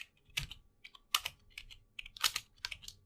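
Keystrokes on a computer keyboard while entering code, coming in short uneven bursts of crisp clicks and taps, close and fairly quiet, with no talking.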